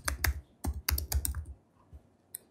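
Keys clack on a computer keyboard as a project name is typed in, a quick burst of close, loud strokes followed by a few scattered, softer taps.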